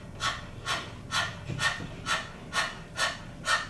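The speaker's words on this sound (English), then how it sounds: "Keep panting, feel the belly moving in and out as you pant." Rapid rhythmic panting breaths of breath-of-fire kundalini yoga pranayama, done with tongue out and belly pumping, about eight evenly spaced breathy exhalations, close and steady with no talk.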